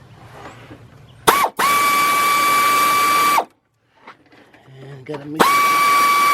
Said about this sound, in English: Push down with my air ratchet